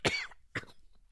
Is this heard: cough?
yes